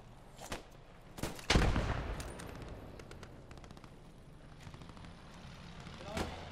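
Scattered gunshots in a World War II video game battle at Arnhem, with a few sharp bursts, one heavier blast and lighter distant pops spread out across the clip.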